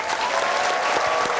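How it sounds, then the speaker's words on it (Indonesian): An audience at a motivational stage event applauds steadily, dense overlapping clapping filling the room at an even loudness throughout. "Kasih tepuk tangan dong"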